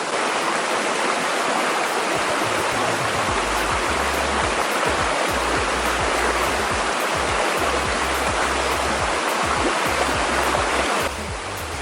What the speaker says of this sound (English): this is the little tiny waterfall, a little spring fall